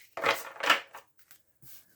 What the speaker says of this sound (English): So I'm going to shuffle here.